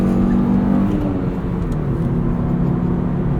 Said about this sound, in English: You just gotta rev it out, and it goes eventually.